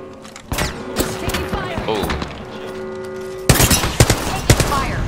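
Gunfire from the video game Apex Legends: scattered sharp shots and bursts with thuds and whooshing effects, growing denser near the end. Game voices can be heard under the shooting.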